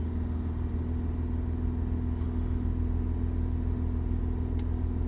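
A car engine held at steady revs around 3000 RPM during a diagnostic check, a continuous close mechanical drone with a strong low hum and no change in pitch throughout.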